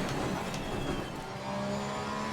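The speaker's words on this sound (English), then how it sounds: "I'm hitting the rev limiter on every gear change here" Racing simulator car engine in a GT4-class setup on a bumpy circuit, droning steadily at high revs with a buzzy limiter-like rasp, continuous and fairly loud throughout with no voices.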